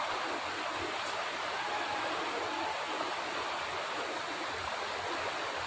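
Flowing water at Devkund waterfall, a constant dense rushing roar close by, steady throughout with no voices.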